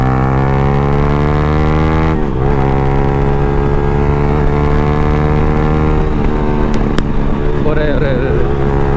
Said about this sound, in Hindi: पटाखे कुछ ज़्यादा छोड़ रही है बाइक